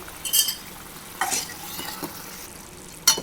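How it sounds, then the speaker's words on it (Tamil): Tamarind puliyodharai paste bubbles and thickens in a pan while a spoon stirs it, giving a few short scraping sizzles and clinks between quieter simmering. "இன்னும் கொஞ்சம் நல்லா கொதிக்க வரட்டும்."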